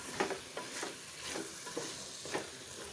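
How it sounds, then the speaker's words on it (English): Rice and masala are stirred in a pot, with repeated scraping strokes of a spoon over a gentle frying hiss. "Stir it very well. Keep stirring."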